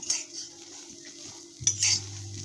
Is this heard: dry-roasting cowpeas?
yes